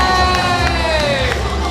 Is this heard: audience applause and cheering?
yes